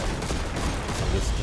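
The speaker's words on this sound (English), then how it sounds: "Whenever it shoots these missiles, you can just shoot them out of the air." Steady rapid gunfire from the video game Destiny as shots target incoming missiles during a Grandmaster Nightfall strike in Lake of Shadows, a dense continuous fusillade with no pauses across the whole stretch.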